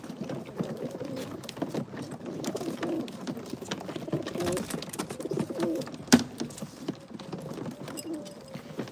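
Pigeons coo and murmur steadily throughout, with soft wing shuffles and occasional louder flutters nearby, one sharp clack partway through.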